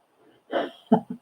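A single close sneeze in a relaxed indoor chat, preceded by a soft intake of breath and followed by a couple of short, sharp after-bursts.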